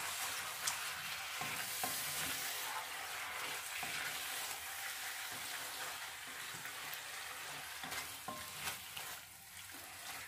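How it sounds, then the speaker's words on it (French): Stirring a pot of Hungarian goulash after a can of crushed tomatoes goes in, a steady soft scraping and bubbling simmer close by, with small clinks of the spoon against the pot and no voices. "On remélange."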